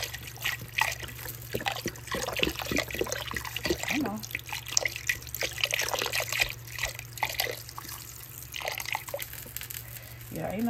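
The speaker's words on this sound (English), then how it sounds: "we're gonna take our beef broth and put it in there like so" Beef broth is poured into a crockpot for oxtails, giving soft, uneven trickling and splashing that continues at low volume throughout.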